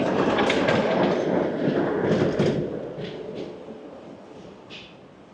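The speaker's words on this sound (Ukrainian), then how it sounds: "Йде трамвайчик п'ятий, можна доїхати до Аркадії." Tram number 5 rolls past on a street in Odesa, a loud rumbling clatter of wheels on rails that fades as it moves away.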